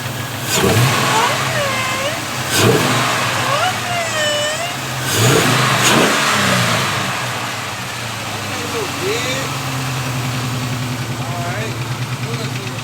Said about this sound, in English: The lifter chatter isn't too bad.